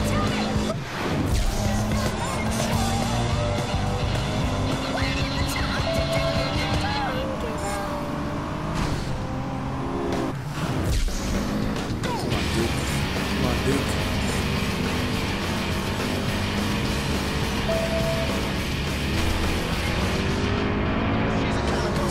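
A car engine held at full throttle in the Driver San Francisco video game, a continuous loud roar with shifting pitch, with brief crash and impact bursts along the way.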